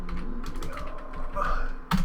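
Rapid keyboard clatter from someone typing on a computer during a Hearthstone gaming session, with continuous close clicks and a sharp louder burst of keystrokes near the end.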